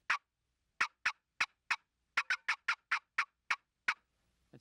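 Loud, rapid cutting from a turkey box call imitating an excited hen as a locator call, a string of about a dozen sharp clucks. They come first in spaced single notes, then in quicker runs, close and alone.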